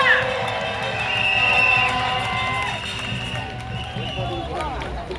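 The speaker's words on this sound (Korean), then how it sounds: "큰 박수 부탁드립니다" A crowd at an outdoor candlelight protest rally claps and cheers, a dense wash of applause with whoops and shouting voices rising over it, loud and close, fading slightly toward the end.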